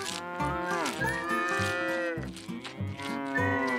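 Several cows moo in overlapping, drawn-out calls in a field, fairly close, one after another with a low, rumbling tone.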